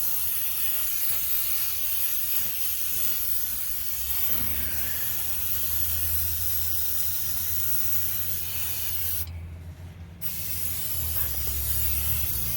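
Brake cleaner sprayed onto the rotors of a 2005 Hyundai Accent during a brake caliper repair: a steady, close hiss of aerosol that runs almost continuously, with one short pause near the end before the spray resumes.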